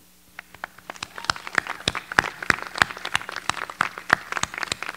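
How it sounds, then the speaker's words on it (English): Scattered claps grow into fuller applause from an audience at a Denison University class induction ceremony, with sharp individual hand strikes and a few brief raised voices mixed in. "like we should applaud"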